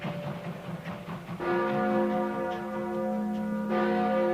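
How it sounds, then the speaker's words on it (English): Church bells of Trinity Church in New York City ring out in steady, sustained chimes, their tones swelling and layering over a low murmuring background, fairly loud and continuing throughout without any talk. "As the chimes of Trinity Church rang out, Lincoln was brought into New York City."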